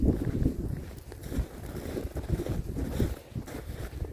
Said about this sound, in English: Oh, wind's starting to come up a little bit.